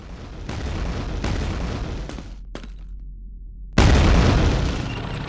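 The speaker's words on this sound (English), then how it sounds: "take out this explosive box" An explosive box blows up in Quake 2 on the N64, heard as a run of deep booming blasts with a brief quiet gap, then a louder, heavy explosion that fades slowly.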